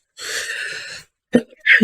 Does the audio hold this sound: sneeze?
yes